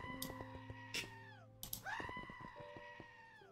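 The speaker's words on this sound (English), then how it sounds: "And it makes a screaming goat noise." A screaming goat cry from a Goat Totem in a Minecraft Bedrock addon, with loud bursts of shrill, wavering screams over game sounds.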